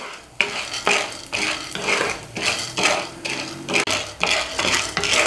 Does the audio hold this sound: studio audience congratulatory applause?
no